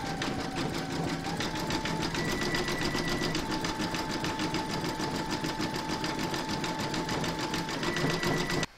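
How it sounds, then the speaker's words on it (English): An embroidery machine stitches a satin stitch around the edge of an appliqué heart, a steady rapid mechanical whirring and needle rattle running evenly throughout at close range, with no talk. "Load whichever colour thread you want for the satin stitching around the edge of the heart into your machine, and then you're going to stitch round number six"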